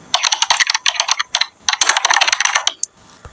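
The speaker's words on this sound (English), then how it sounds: "Let's say you want to choose maybe a keyboard typing." Keyboard typing sound effect from a video editing app: bursts of quick, crisp key clicks in close, loud clusters separated by brief pauses.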